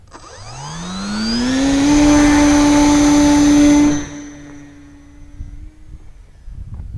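Electric motor of a Fun Cub 1100mm RC model airplane with flaps deployed, spinning up at roughly three-quarter throttle into a loud, close, steady whine that holds, then drops to a fainter background hum with light outdoor noise.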